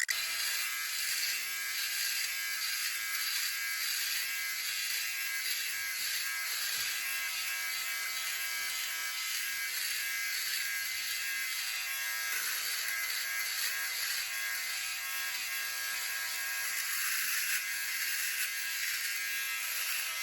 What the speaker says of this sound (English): I'm going to use that bottom part of the blade and I'm going to shave downward.